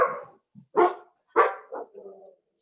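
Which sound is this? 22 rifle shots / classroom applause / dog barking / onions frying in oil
dog barking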